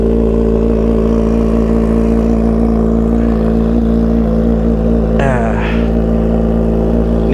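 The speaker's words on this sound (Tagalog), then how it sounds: "Cold start ZH2, naka shorty na exhaust." A 2021 Kawasaki ZH2 fitted with a shorty exhaust idles loudly and steadily right after a cold start, a constant close engine drone with a brief higher-pitched sweep partway through.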